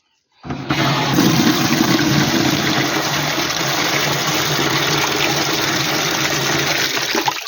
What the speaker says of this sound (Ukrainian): Просто розкрутили його, клали відеречку, зараз наберемо водички.